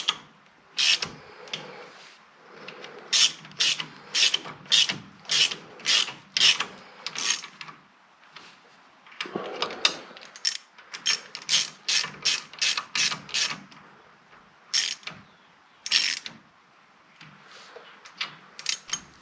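A ratchet and socket tighten wheel nuts on a 1986 Ford diesel Ranger 4x4 during a disc brake job, giving loud, close bursts of rapid clicking that repeat in quick runs separated by short pauses.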